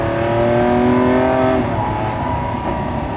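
V12 engine of a 2020 Lamborghini Aventador SVJ Roadster heard from inside the cabin with the window lowered, a loud steady drone with a rising harmonic whine that eases partway through.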